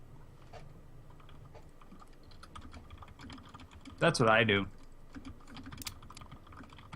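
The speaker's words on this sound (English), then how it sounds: "I hear your keyboard" Computer keyboard typing comes through as scattered light clicks at low level, with a short burst of speech in the middle and a few more soft taps afterward.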